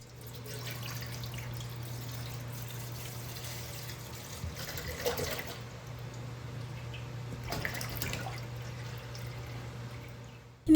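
About 1.25 litres of milk is poured from a packet into a pot at home, giving a soft, steady liquid stream under a low background hum, with a couple of brief handling noises and no talking.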